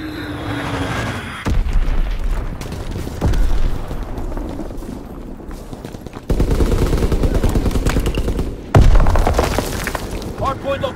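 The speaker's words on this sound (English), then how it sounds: "Azon bomb mission underway." Call of Duty: WWII multiplayer Hardpoint match during an Azon bomb run, with loud, dense bursts of gunfire and booming explosions in heavy, continuous waves, mixed with in-game voices.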